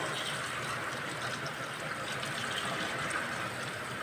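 Water runs steadily from a tap in a workplace, a continuous broadband hiss that stays even and fairly faint throughout with no pauses.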